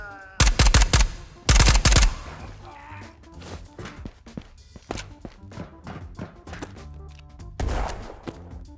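Video game gun firing inside a missile silo: loud, close bursts of rapid automatic fire near the start, then scattered single shots and thuds, and a final burst near the end.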